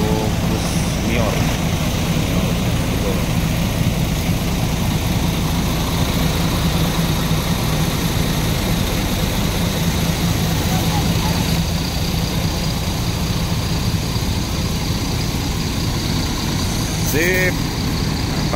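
An Al Hijrah Suites Family bus sits parked with its engine idling, a steady, loud low rumble that continues unbroken and close by, with faint background noise and a brief higher squeal near the end.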